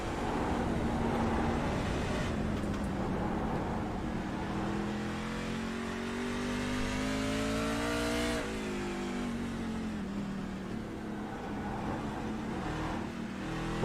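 A racing truck engine in a video game drones and revs continuously, pitch rising and falling as the throttle is worked, loud and close throughout.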